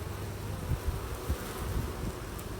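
Honeybees fan at the entrance of a hive, making a steady, even drone of many wings close by, with individual bees buzzing past in short louder swells.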